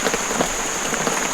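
Steady rain pours straight down near Finch Hatton on the way to Eungella, a dense continuous hiss of drops on surfaces with soft patters throughout and no voices.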